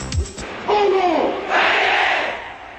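High school students from Jeju roar and chant in the stands at the 2006 Baekhogi football tournament, a loud massed crowd cry rising in two swelling waves after a short opening burst.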